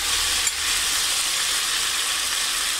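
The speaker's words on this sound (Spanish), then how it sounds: "Miren cómo empezó a hervir." Beef tripe menudo broth beginning to boil in a pot, giving a steady, dense hiss and bubbling sizzle heard close up without interruption.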